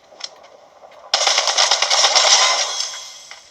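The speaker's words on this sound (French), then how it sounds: "Eh mais qui me tire dessus?" Sustained automatic gunfire aimed at the player in a video game, a loud dense rattling burst kicking in abruptly after a brief quiet lead-in and continuing for a few seconds before tapering.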